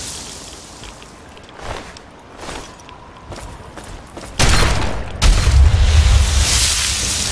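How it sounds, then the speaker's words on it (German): A few muffled thumps give way to a deep, rumbling booming blast as something explodes in water in Fallout 3, loud and sustained, with a second surge following. "Schneit immer so, wenn man die im Wasser kaputt macht. Als wenn eine Bombe im Wasser explodieren würde."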